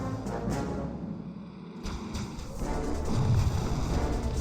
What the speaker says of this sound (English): Shogun Battleship also barraging the airbase